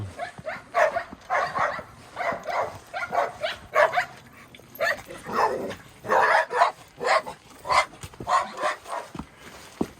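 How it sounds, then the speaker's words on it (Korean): Several farm dogs bark repeatedly in uneven bursts at a snowy mountain home, loud and fairly close, with short yips mixed in and no talking. "얘들 왜 그래 짖어대요"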